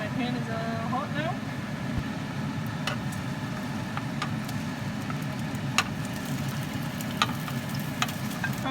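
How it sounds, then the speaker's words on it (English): Tofu frying in hot oil in a pan over medium heat, a steady low sizzle and crackle with occasional sharp pops, fairly faint and close. "Okay, I'm going to put some oil in the pan. I'm cooking in medium heat. My pan is hot now."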